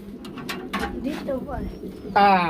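Pigeons at a pigeon farm coo in soft, low warbling calls close by, with a louder burst of cooing at the end.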